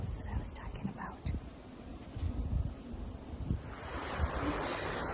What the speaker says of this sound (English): You can see the water rushing over those big rocks